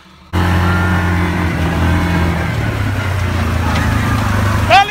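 A tractor engine starts and idles with a steady low rumbling drone, close and loud, and a voice sounds briefly near the end.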